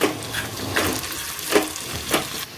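A pan tempering for mango pulihora sizzles and fries steadily, with a few louder stirring scrapes rising and falling above the continuous hiss, close by and with no voices.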